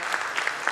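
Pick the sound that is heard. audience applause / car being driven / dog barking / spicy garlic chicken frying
audience applause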